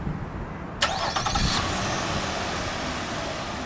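A 2015 Nissan Murano SL starts by remote with a sharp crank that catches within about a second, then settles into a steady, fairly close idle with no voices.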